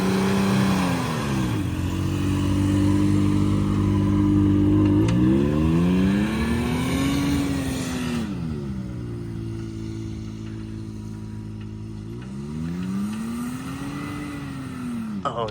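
A two-wheel-drive Toyota Tacoma pickup stuck in deep sand revs hard over and over, its engine pitch climbing and falling in long repeated sweeps, loud and close, with no talking.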